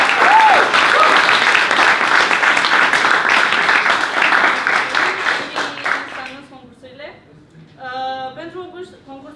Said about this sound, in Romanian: vreau un rând de aplauze pentru ei